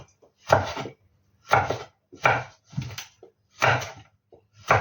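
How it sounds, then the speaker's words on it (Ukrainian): A knife chops chili peppers on a board in five or six separate bursts of rapid cutting strokes, close up, with short quiet gaps between. "Зараз дорізаю"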